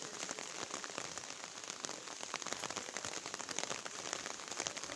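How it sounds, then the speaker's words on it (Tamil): On a village rooftop terrace garden, heavy rain drums down in a continuous crackling patter of dense, close drops striking hard surfaces, with no voices. "மழை பாருங்கள், பெஞ்சிக்கிட்டே தான் இருக்குது."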